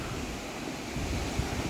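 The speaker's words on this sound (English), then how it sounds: "And here we are, the Algar waterfalls." The Algar waterfalls rush with a steady broadband hiss of falling water, close and continuous, with some wind-like buffeting.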